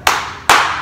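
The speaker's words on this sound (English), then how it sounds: "Well done. 2 claps." Two sharp, loud claps in quick succession from a group of children in a martial arts class, close by with no talking.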